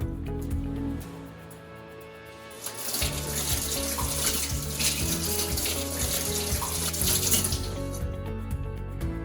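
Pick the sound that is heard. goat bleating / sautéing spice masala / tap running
tap running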